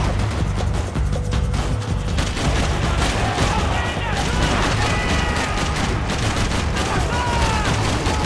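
Gunfire in Max Payne 3 rattles continuously in rapid, overlapping shots and bursts, loud and dense throughout, with someone talking over the din.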